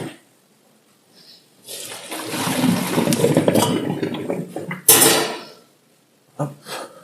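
Cooking water from boiled fennel pours out of a pot into a sink in a loud rushing splash that lasts a few seconds. A second short gush follows, then small splashes and clatter.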